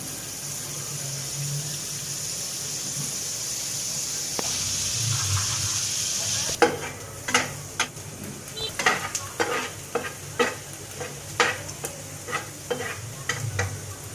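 Butter melts in a pan for white sauce chicken pasta with a steady, close sizzling hiss, then sharper taps and scrapes of stirring break in over the continuing fry.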